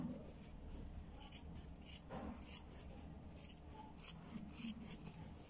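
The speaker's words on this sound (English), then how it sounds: "I'll just trim off the sides so that it can be equal." Scissors trim the edges of a handmade fascinator, giving several quiet, close snips at irregular intervals over a low background hum.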